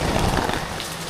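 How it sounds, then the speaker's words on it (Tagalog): Heavy rain pouring steadily in the Philippines, a dense, even hiss of falling water with no gaps, loud and close. "umuulan dito kanina pa"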